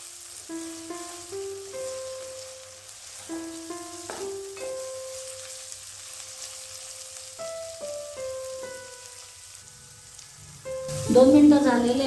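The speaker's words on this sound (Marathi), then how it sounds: "दोन ते 3 मिनिटं परत आपल्याला परतून घ्यायचं आहे कांदा आणि टोमॅटो." Onion and tomato frying in a pan give a soft, steady sizzle beneath a melodic plucked tune, and the crackle grows louder and busier near the end.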